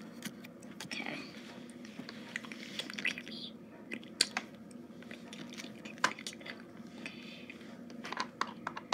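Slime squished and pressed close up for ASMR, giving a steady run of wet, sticky crackles and small pops with a few sharper snaps, soft and intimate throughout.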